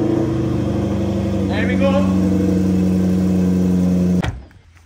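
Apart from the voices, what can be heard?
McLaren 720S engine running while moved out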